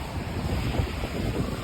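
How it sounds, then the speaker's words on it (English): Strong wind outdoors by the sea, a steady rushing buffet of gusts hitting the microphone over a low surf-like rumble, faint and continuous with no talk. "It's super windy out here."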